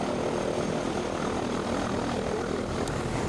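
A Kenya Air Force propeller aircraft drones steadily and loudly throughout, a continuous engine roar with no gaps and no voices over it.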